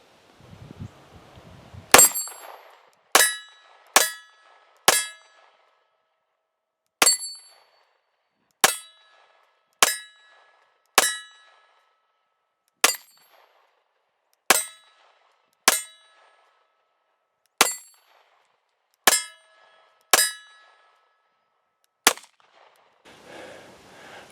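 Pistol shots from a Sig P320 ringing off steel targets at 10 yards outdoors, about fourteen sharp metallic clangs spaced roughly a second apart, each with a short ringing decay, clear and alone.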